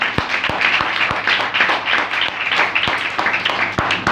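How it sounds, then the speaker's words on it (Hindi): Enthusiastic applause from a church congregation for a sister after her singing, many hands clapping in a steady, loud, close burst with sharp individual claps standing out, no talking over it. "सिस्टर के लिए एक बार जोरदार ताली"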